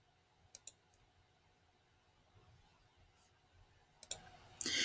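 Mouse clicks on a launch button in a Discovery Education quiz setup: a few sharp, quiet clicks early, then a louder cluster of clicks and clatter at the end, with no talking.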